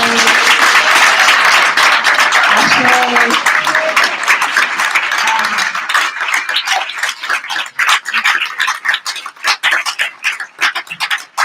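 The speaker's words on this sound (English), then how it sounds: "Can we just do a round of applause and an ashe?" Summit breakout session audience breaks into loud, close applause mixed with cheering voices, then the crowd noise drops away and individual claps thin out and scatter toward the end.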